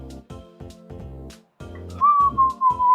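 A person whistles a sustained, slightly wavering tone near the end, after a run of rhythmic low thuds, loud and close.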